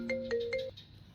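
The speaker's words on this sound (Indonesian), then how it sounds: "Ada suara telepon." A telephone rings with a short melodic electronic ringtone, three quick repeated tones in succession before cutting off, heard up close with no talking.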